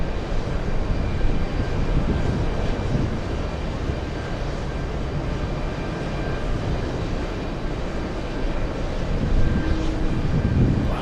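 A Giant 811 heavy jet takes off at JFK, its engines making a steady, loud broadband roar that holds for the whole stretch and swells slightly near the end.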